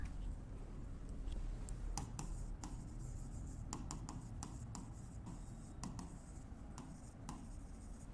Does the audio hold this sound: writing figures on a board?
yes